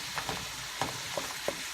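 Hamburger meat browns in a pan while a wooden spatula stirs and breaks it up, giving a few soft, scattered scraping strokes over a quiet, steady sizzle.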